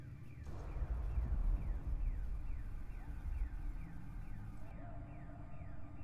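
A car alarm blares in The Last of Us, a loud repeating electronic whoop with cycling pitch sweeps over a dense rumbling background, continuous for several seconds before the high end cuts out near the close.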